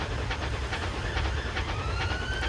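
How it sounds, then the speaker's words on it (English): Bullied Q1 steam locomotive crossing a bridge on the Somerset and Dorset Joint Railway in Train Simulator, heard as a steady rumble with rhythmic chuffing and rail clatter, a faint whistle-like tone rising in the background. "Train on a bridge. We've got to get trains on the bridge."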